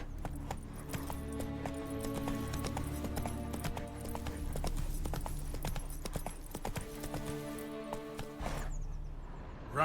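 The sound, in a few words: Roach the horse galloping in Witcher 3 video game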